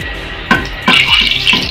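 Motichur laddu batter dropping through a perforated ladle into hot oil, giving a steady bright sizzle with sharp bursts of crackle as each new batch hits the oil, close and fairly loud.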